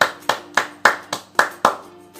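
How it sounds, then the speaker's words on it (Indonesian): Hand claps at an online Sunday school class for toddlers and young children, seven crisp separate claps at a steady, slightly uneven pace, close and clear with short ringing decays. "Terus tepuk tangan."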